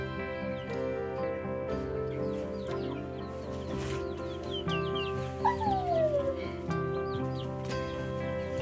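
Big and little chickens cluck together in a coop, a steady mix of soft clucks and chirps with one drawn-out squawk, fairly close and moderately quiet.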